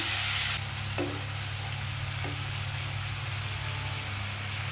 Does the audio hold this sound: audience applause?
no